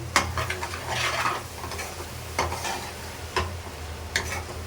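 Prawn paneer masala gravy being mixed in a pan, a soft background sizzle with several scraping strokes and light clinks of a spoon against the metal.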